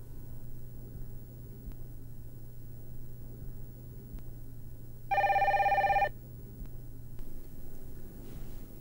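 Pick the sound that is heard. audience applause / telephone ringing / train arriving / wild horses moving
telephone ringing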